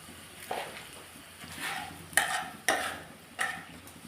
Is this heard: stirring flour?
yes